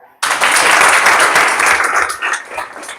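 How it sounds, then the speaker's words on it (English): Students in a secondary school classroom clap for a classmate, a sudden loud burst of many hands that starts sharply, holds strong, then thins out slightly toward the end. "Please clap for him."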